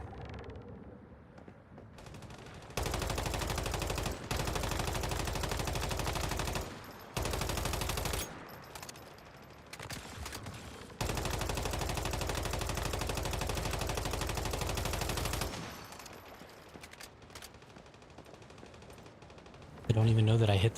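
Sustained bursts of automatic gunfire in the video game Once Human, loud dense volleys lasting several seconds each and broken by short pauses, with quieter game ambience between them.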